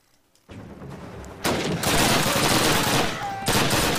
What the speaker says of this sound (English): Shot in the back and the front.